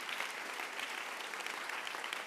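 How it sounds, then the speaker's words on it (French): A church session crowd applauds, an even, dense patter of many hands clapping at moderate distance, fairly quiet and unbroken, with no voices. "Applaudissez pour la lionne là."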